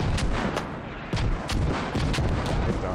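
A video game grenade explosion amid combat, with a series of sharp, loud blasts and gunshots cracking in an irregular rhythm, close and forceful.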